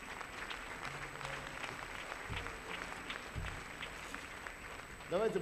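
An audience at a recovery testimony gathering claps steadily throughout, a moderate, even patter of many hands, with a voice breaking in near the end.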